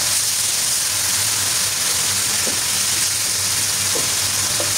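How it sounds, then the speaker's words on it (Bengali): Chicken cooking with spices in a pan with a little water: a steady, broad hiss of simmering and sizzling, fairly loud and continuous, with a few faint clinks. "এখন এর সাথে মশলার সাথে চিকেনের সাথে খুব ভালোভাবে কষিয়ে"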